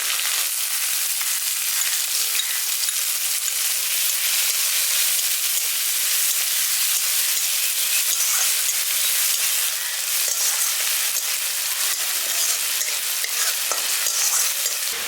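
Chopped onion and garlic fry in a pan as a dense, continuous sizzle. Stirring adds scraping and crackling over about fifteen seconds, with no talk.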